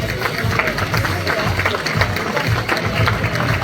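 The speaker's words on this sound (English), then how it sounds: "Keep your round of applause coming, please, for Maxine and Dana." At the BBC Make a Difference Awards ceremony in Derby, a crowd claps loudly and continuously, making a dense wash of close and distant hand claps with some crowd murmur mixed in.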